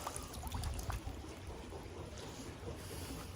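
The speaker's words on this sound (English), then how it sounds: "I've got quite a dirty stream here" A dirty stream at a riverside in a forest runs steadily, a continuous low rushing flow with faint splashing detail, close and unbroken throughout.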